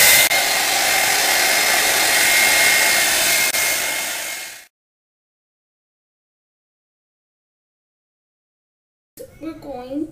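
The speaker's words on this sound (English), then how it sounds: "I like to use the highest setting on the blow dryer" A loud, steady roar of a hair dryer on high for several seconds, then it cuts off into silence before a voice starts speaking.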